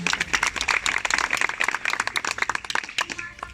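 Audience applause at a retirement ceremony for employee Des Raj, a dense run of many hands clapping steadily for a few seconds, fairly close and lively with no talk over it.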